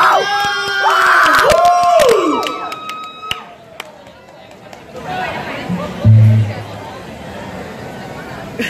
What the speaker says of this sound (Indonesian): sekali lagi beri tepuk tangan untuk Dynamax